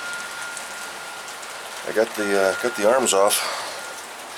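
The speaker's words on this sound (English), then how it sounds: "it's raining harder now" Heavy rain pours steadily over a car parked outdoors while someone works on its wipers, with someone talking close up over the constant downpour.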